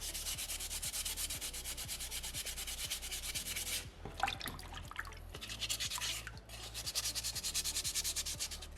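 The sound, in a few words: sanding a soapstone orca carving with sandpaper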